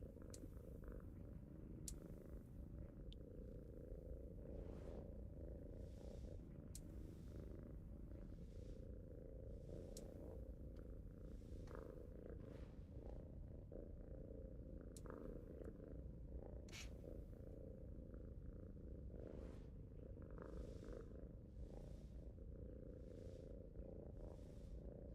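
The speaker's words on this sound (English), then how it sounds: "Oh, it's even purring this time." A cat purrs softly and steadily up close, a low continuous rumble that runs unbroken for the whole stretch, with faint ticks and rustles above it.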